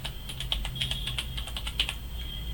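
Rapid keystrokes on a computer keyboard while Python code is edited, an uneven run of light, close clicks with no talking.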